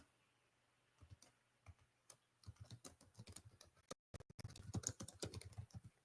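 Computer keyboard typing Python code: bursts of quick, close key clicks that start sparse and grow into denser, faster runs, with no speech.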